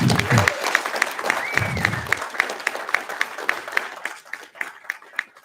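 An audience at a school trustee candidate forum applauds the panel, steady close clapping that thins toward the end, with a voice briefly speaking at the start and again near two seconds.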